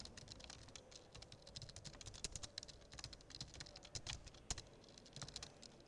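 Steady, fast keystrokes on a computer keyboard as a C program is typed into a terminal, close and crisp clicking that runs for several seconds with no talking.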